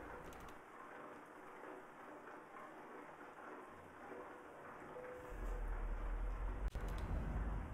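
Steady rain patters in the Euro Truck Simulator 2 driving game, a soft even hiss at low level with a low rumble swelling near the end.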